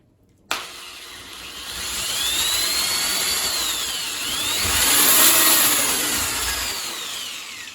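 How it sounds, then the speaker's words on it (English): A power drill bores a pilot hole into the wooden base of a spice rack shelf, a steady whining motor drone that swells and shifts in pitch, loud and close without talk. "continue that pre-drilled hole here into the base of the shelf so that the base doesn't crack when the screw goes in"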